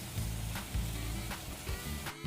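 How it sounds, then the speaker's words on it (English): Honey glaze sauce for salmon bubbling and sizzling in a pan, a steady close sizzle with soft pops and swells throughout, no voices. "I'm gonna just let that bubble and sizzle."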